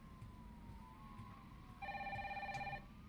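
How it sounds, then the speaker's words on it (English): A telephone rings inside a horror video game set in a night-shift pizzeria, a steady electronic trill sounding clearly for about a second over a faint background hum and a low sliding tone. "They really want me to answer that phone"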